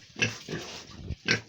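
Pigs in a pen, a boar biting a sow: three short, close grunting squeals in quick succession, loud and harsh, with no talk over them.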